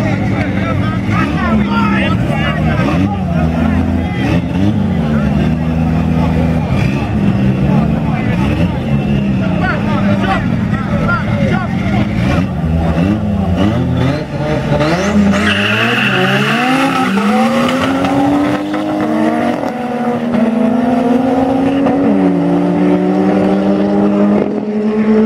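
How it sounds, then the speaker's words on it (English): Toyota MR2 race car running flat out on a track, engine droning loud and close while tires squeal and skid, with pitch sweeping up and down through shifts and cornering near the end. "MR2 clearly won that race."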